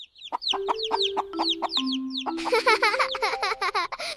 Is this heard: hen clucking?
yes